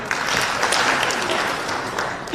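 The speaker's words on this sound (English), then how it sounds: "Please clap for him" Applause from an audience in a lecture hall after a business and investment talk, a dense steady patter of many hands filling the whole stretch without pause.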